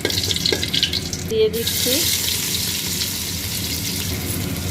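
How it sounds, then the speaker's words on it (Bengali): Whole garam masala and bay leaves sizzle steadily in hot ghee, a close, continuous frying hiss with a brief clatter, while a voice speaks briefly over it. "ঘিটা গরম হয়ে গেছে, এতে আমি এই গরম মশলা, তেজপাতা ফোড়ন দিচ্ছি"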